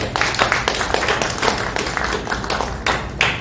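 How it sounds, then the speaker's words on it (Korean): Audience applause at a book launch event: a modest crowd clapping in a steady, fairly close patter of scattered hand claps for about three seconds, with no one speaking over it. "여러분 박수로 환영해 주십시오."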